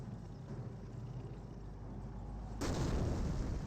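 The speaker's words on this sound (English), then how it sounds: "Also, mortar half-track barrage in this region." Mortar half-track barrage in Company of Heroes, a low rumbling battlefield bed that jumps into a louder booming impact about two-thirds through and stays heavy afterward.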